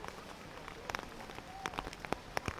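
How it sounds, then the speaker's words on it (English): Rain falls during a delay at a baseball game between the Netherlands and Czech Republic, a steady soft patter with scattered sharper drops and taps close by, with faint crowd noise beneath. "It's raining and sunny right now."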